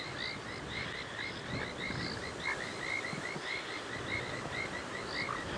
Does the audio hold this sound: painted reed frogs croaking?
yes